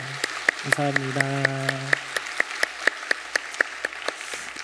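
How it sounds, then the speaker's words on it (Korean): A church congregation at a Sunday worship service claps in a crisp, evenly spaced rhythm, the beats steady and moderately close. Someone speaks briefly over the first claps. "우리 박수로 한번 격려하도록 하겠습니다"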